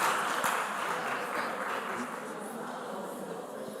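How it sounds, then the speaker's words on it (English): Quiet audience applause for school quiz competition contestants, a soft, distant patter of clapping that fades slightly over a few seconds. "A round of applause to my contestants."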